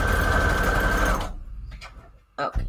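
A close, loud sewing machine whirs steadily while stitching scrap paper, then stops abruptly, leaving faint handling clicks and small rustles.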